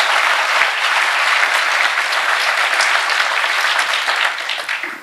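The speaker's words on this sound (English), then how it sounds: "you should applaud for Bill Moyers" Loud, dense applause from a large audience at a conference keynote fills the whole stretch, steady and enthusiastic before tapering slightly at the end.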